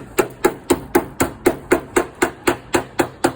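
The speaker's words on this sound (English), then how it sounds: "And then we'll use the hammer in a minute." A hammer taps a dent in a car's metal panel in a steady, even rhythm, about a dozen sharp close strikes with no talking.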